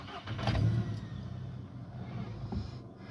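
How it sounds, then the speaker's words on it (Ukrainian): A Volkswagen Golf 1.6 MPI engine cranks and catches, then settles into a steady low idle rumble nearby, with a faint voice briefly audible. "Заводжу автомобіль."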